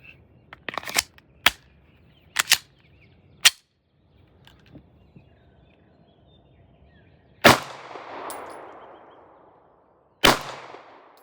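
Several sharp pistol shots from a Glock 19 Gen 5 at a shooting range, loud and close, with uneven gaps and a lingering echo after the later reports.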